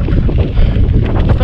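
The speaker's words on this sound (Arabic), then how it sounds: "هذا الريح ضدك واحد الريح قاصح" Strong, blustery wind roars over a road and buffets the microphone with a loud, continuous rumble for the whole moment.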